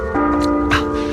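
Bells ring out in a steady sustained tone with a struck accent partway through, heard outdoors during a live walking broadcast, fairly loud and continuous with some background noise.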